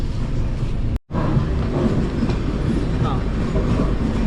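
A train pulls into Kozhikode railway station in Kerala with a loud, continuous rolling rumble, close by. The sound cuts out very briefly near the start, and voices may be faintly mixed in.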